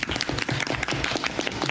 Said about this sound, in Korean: 괜찮아. 박수.